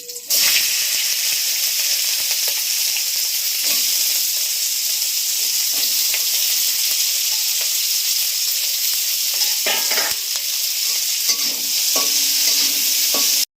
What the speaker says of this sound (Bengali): এবার এই গাজর আর বিনসগুলো ভেজে নেব।